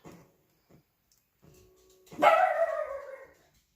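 A dog gives one loud, sharp bark near the end after a few faint earlier noises, then the room falls quiet.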